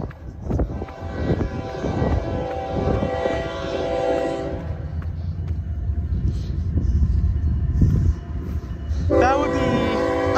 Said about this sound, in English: we already got a train coming.